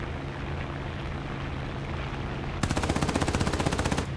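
Rapid, evenly spaced machine gun bursts from an A5M4 fighter plane in the flight game War Thunder, starting abruptly over a steady engine drone and firing loud and close for over a second.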